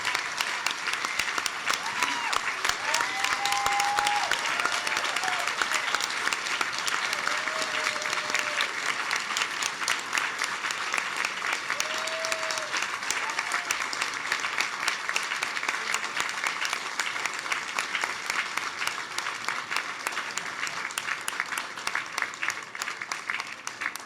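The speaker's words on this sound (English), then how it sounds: "A big round of applause, a big thank you to all the leadership candidates" Prolonged audience applause closing a Conservative leadership debate in Nova Scotia, a steady wash of many hands clapping that holds for the full stretch, with a few faint voices and whoops rising briefly above it.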